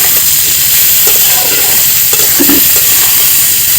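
Jujubes for pickle stirred in hot oil with salt, giving a steady broadband fry sizzle with intermittent scraping stir strokes, close and loud throughout.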